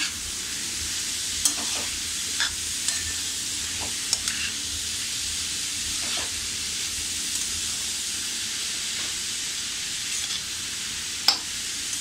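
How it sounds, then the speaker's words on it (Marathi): Salt is stirred into radish greens cooking in a pan, Malvani style: a constant soft sizzle and hiss with scattered scraping clicks of the spoon against the pan. "हे सुद्धा आपण असं व्यवस्थित मीठ ढवळून घेऊया."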